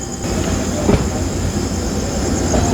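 The diesel Sindhanur Express pulls out of Tiptur station with a loud, steady rumble and a faint rhythmic wheel clatter, with no voices.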